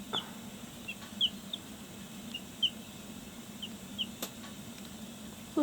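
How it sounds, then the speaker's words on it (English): A baby chick peeps softly, giving a string of faint, high, evenly spaced chirps in a quiet room, with no talking. "Little chickie."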